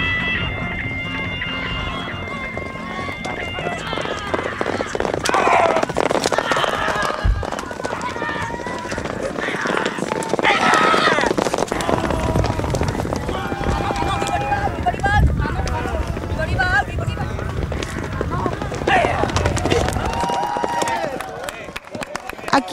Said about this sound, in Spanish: Un día soleado se combina perfectamente para disfrutar de las carreras de caballo o aatihoi.